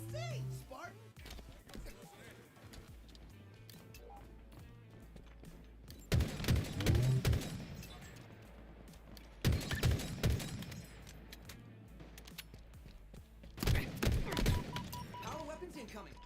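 Gunfire during a Halo multiplayer match, three loud bursts of shots and impacts spaced several seconds apart, mixed with game announcer speech and background game sounds.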